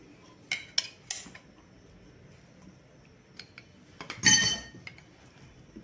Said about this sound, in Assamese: ঘি এতিয়া মই লৰাই দিম।